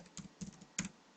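Typing on a computer keyboard: a few quick, soft key clicks in short bursts, close by and quiet, with no talking.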